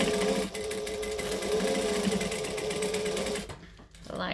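A sewing machine stitches straight across a seam on a fabric case, a loud, close, steady motor whir with rapid needle chatter that stops abruptly near the end.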